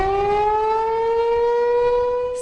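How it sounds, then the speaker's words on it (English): An outdoor civil defense emergency warning siren in central Illinois wails loudly and steadily, holding one sustained, slowly rising tone with strong overtones and no voices over it. "Sirens blaring."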